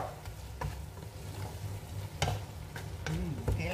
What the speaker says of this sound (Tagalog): Kailangan igisa ito ng maayos. I mean, igisa ng maigi. Kasi hipon ito para hindi magsangsang.